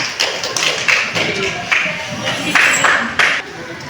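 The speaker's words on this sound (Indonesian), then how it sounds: "Oke, tepuk tangan untuk kita semua." A classroom of children clapping hands during a microteaching lesson, sharp close claps landing in uneven bursts with thuddy taps, loud and near, with some voices mixed in.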